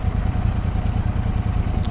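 A new Royal Enfield Super Meteor 650 twin-cylinder cruiser idles steadily up close, a loud, even low thumping pulse with no voices over it.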